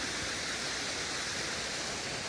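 Creek water in the backcountry runs in a steady, broadband rush, constant and close with no breaks, no voices over it.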